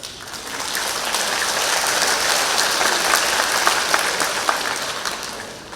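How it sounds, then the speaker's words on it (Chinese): Sustained audience applause fills a concert hall at an awards gala, a dense, even wash of clapping that swells slightly and holds steady throughout with no voices over it. "让我们掌声有请乐团首席"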